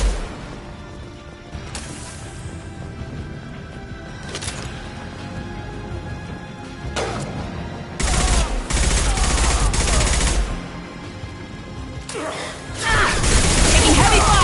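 Heavy gunfire in the Mass Effect Legendary Edition video game, a few isolated shots early followed by sustained loud bursts of automatic fire, with voices speaking between.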